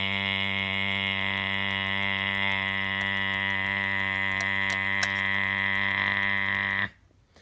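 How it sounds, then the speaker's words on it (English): A loud, steady electronic alarm tone blares without a break for about seven seconds, then cuts off abruptly into quiet. "the fire alarm in my elementary school was the worst because it was a constant tone"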